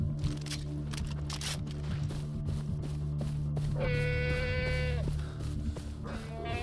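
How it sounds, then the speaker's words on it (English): Goats bleating in the video game Far Cry 3, a wavering animal cry standing out over a busy game soundscape with a steady low hum beneath it. "You go attack the goats."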